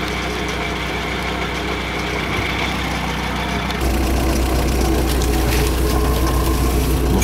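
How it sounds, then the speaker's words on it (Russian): A UAZ off-road vehicle warming up at idle with a steady, rattling engine drone close by, growing slightly louder and rougher partway through, with no talk over it. "вот УАЗик тарахтит, мотор заведен, работает"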